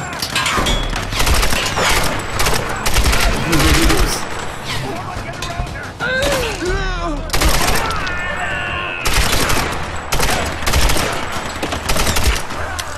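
Gunfire in Tomb Raider in the Shanty Town area, dense loud volleys of rapid shots nearly throughout, with brief pauses and a short lull around six seconds, over battle noise.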